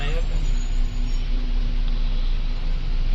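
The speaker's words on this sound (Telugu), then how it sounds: "అసలు ట్రాఫిక్ జామ్." Steady roadway rumble of a heavy traffic jam at Devi Chowk, a busy market junction in Rajahmundry city, heard from inside a Volvo B9R AC sleeper bus, with a constant low engine drone and dense vehicle noise throughout.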